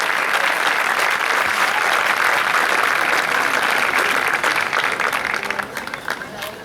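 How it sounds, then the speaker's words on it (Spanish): An audience at a padel exhibition match in Neuquén bursts into loud, sustained applause that carries on for several seconds before starting to thin out at the end, with an announcer's voice mixed in. "Un aplauso bien fuerte"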